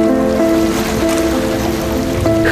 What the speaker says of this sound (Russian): Холодные волны Финского залива разбиваются о грубые камни.